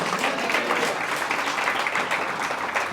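Church congregation applauding during a Sunday morning service, a steady, dense wash of clapping throughout, fairly loud and close with no clear voices over it.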